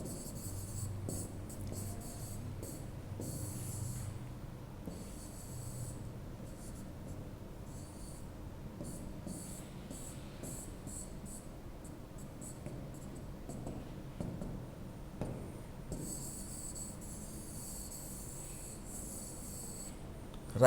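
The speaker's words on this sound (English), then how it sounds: "I will rub this out because I need it." Writing being rubbed off a classroom board, a soft continuous scrubbing and brushing that runs for about twenty seconds, faint and fairly close, with no talk over it.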